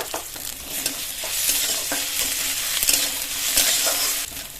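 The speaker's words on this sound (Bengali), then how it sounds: "পেঁয়াজ রসুন মশলাগুলো একটু লাল করে ভেজে নিয়েছি।" Onion, garlic and ginger frying in a pan, a steady close sizzle with stirring scrapes and small utensil clicks throughout, no talking.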